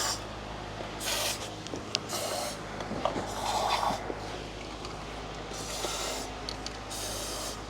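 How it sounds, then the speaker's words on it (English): Aerosol lubricant sprayed down into a GM 5.3 V8 engine onto the fuel injector nozzles to free them from the head, heard as several short hissing bursts close up over a low steady background hum. "I'm gonna spray some lube down in there to try to soak in to the injector nozzles"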